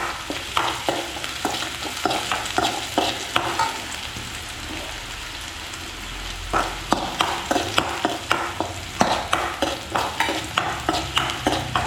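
Onions sautéing in a pan, with a steady sizzle under rhythmic, close stirring scrapes that come in quick regular strokes, pause briefly midway, then resume.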